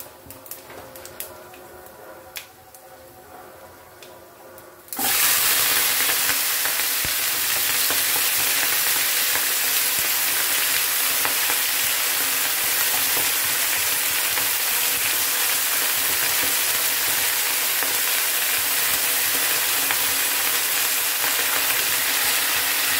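Malabar spinach hits hot oil in a pan for a prawn curry, setting off a sudden loud, dense sizzle that holds steady and roaring for a long stretch after a quieter start.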